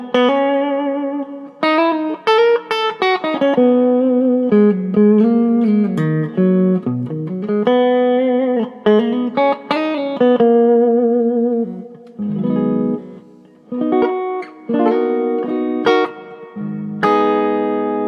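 Electric guitar played through the clean channel of a Carvin Legacy 3 amp with warm reverb: clear picked notes and chords ring out in phrases with short pauses, loud and close, with no talking.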